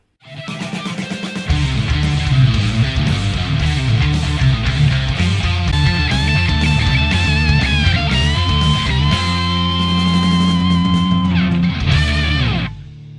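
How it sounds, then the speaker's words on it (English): Electric guitar played through a Boss DD-5 digital delay pedal, a run of picked notes and chords with repeating echoes trailing each one, loud and close, ending in a fading decay. "Delay, also known as echo."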